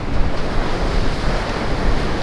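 A big ocean wave breaks along the Hawaii shore at sunrise, a steady loud broadband wash of surf with wind noise and no voices.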